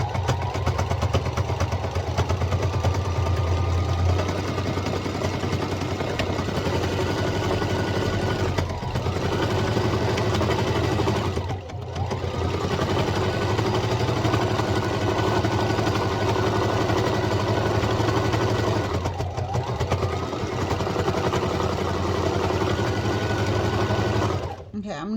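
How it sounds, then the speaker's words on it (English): Sewing machine stitching all around the fabric of a DIY sugar glider tunnel tent, a steady close mechanical whir running almost without a break, with a few brief pauses. "now I'm just sewing all around"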